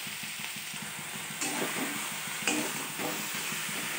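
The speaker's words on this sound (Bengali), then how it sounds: "মশলাগুলো সব ভাজা ভাজা হয়ে গেছে, কষা কষা হয়ে গেছে।" Spices with turmeric and salt fry in a pan for an aubergine and soya chunk curry, giving a soft sizzle under rhythmic scraping strokes of a spatula, with a few louder clatters close by.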